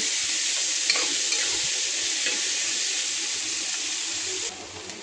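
Finely chopped onion frying in a pan while making palak paneer, giving a steady loud sizzle with light stirring scrapes throughout, easing slightly at the very end.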